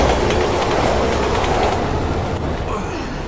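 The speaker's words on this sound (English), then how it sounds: "A train is coming." Train passing close by in the video game Resident Evil 6, a loud continuous roar of wheels and rails with faint rhythmic clatter, easing off slightly toward the end.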